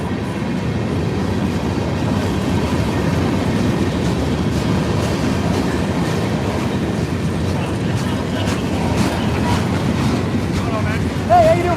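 FEC 950 freight train passing at Stuart, Florida, a continuous rumbling roll of wheels on rails with faint clacking, steady and moderately close, with brief talk near the end.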